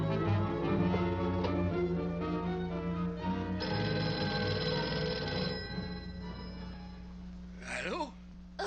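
An old-fashioned telephone bell rings repeatedly in a 1959 science fiction film, a steady sustained ringing set against a low background score, fading toward the end as a brief rustle comes in.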